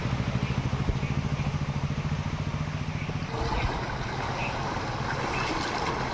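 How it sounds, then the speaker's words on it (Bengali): Motorcycles ride through knee-deep rainwater flooding a village road. A steady engine drone with a rhythmic, pulsing putter holds throughout, nearby and fairly loud, and shifts in tone partway through as another bike comes through. "হ্যাঁ আরও বাইক আসছে"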